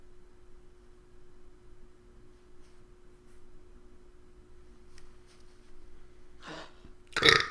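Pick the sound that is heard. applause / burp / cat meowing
burp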